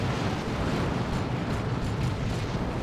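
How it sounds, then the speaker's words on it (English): Psychic grenades explode in Dawn of War 2, a Warhammer 40,000 game, and fill the clip with a loud, dense, sustained roar of blasts and rumble without any clear gaps. "Oh, that was Psychic grenades."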